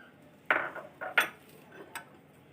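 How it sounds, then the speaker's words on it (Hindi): A spoon stirs yogurt and ground boiled rice paste in a bowl, giving a few sharp clinks and scrapes against the dish, fairly quiet and close with no talk. "बहुत अच्छी तरह से इसको मिक्स करिएगा।"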